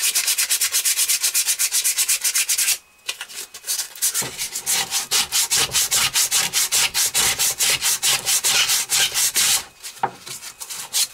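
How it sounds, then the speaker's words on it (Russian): Sandpaper rubbing over a hand-carved wooden spatula, with a steady rapid back-and-forth scratching rhythm that is close and loud, pausing briefly twice before resuming. "Сейчас еще будем зашкуривать, и оно снимется все."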